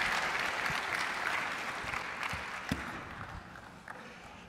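An audience claps steadily, loud at first and gradually tapering off, with a few scattered louder claps near the end.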